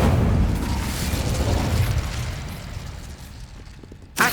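The Incendio fire spell goes off in Hogwarts Legacy, a loud rumbling whoosh of flame near a rhinoceros skeleton that roars then slowly dies away, followed by a sharp burst at the very end.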